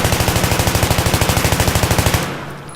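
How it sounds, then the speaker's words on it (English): M16A3 rifle with foregrip and heavy barrel firing in Battlefield 3: a rapid, steady automatic burst of about twenty-five evenly spaced loud shots over two seconds, then a fading echo tail. "So let's just fire around right here at this thing"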